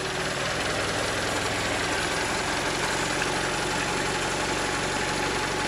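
A Honda Accord with an H22 stroker swap idles with a steady, close mechanical rumble and a faint ticking. It runs evenly throughout, with no talking.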